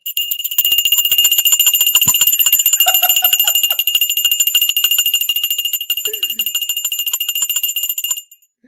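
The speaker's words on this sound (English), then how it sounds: "when you ring the little bell" A small desk bell rung rapidly and repeatedly, producing a bright, sustained metallic ringing for about eight seconds before stopping, with a brief voice heard partway through.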